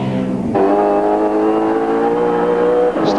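A 1993 V8 Supercars touring car races at Eastern Creek, its engine roaring loud and close, with a sharp gear change and a rising high-revving whine that holds steady before dropping off again.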